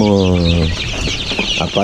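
Ayam Arab chickens cluck on a farm, a dense run of nearby clucking and squawks that opens with a longer drawn-out call.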